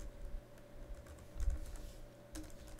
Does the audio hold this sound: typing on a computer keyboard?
yes